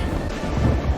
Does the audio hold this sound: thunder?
yes